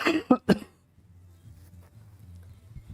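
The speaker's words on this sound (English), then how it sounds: "hoping this is the last night of this cough" Two or three sharp, close coughs in quick succession at the very start, followed by quiet low background hum.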